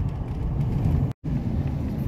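A car drives through traffic, its steady close road rumble and tire noise filling the cabin, broken by one brief dropout before resuming, with no talking.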